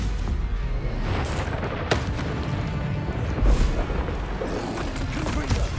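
Spell combat in the Hogwarts Legacy video game, a Stupefy spell cast amid dense, continuous booming impacts and crashing effects, loud throughout, with sharper bursts near the start and middle.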